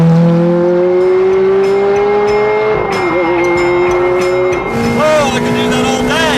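A sports car engine revving while driving on the road, loud and close, pitch climbing through gears with rising whines and shifts, and someone talking over it at times.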